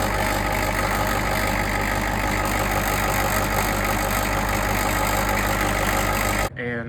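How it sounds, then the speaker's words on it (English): A running 1986 IDI diesel engine idles loudly and close, a dense continuous clatter with a rattle from the inspection cover, steady throughout before cutting off abruptly at the end. "the rattling noise coming from the inspection cover"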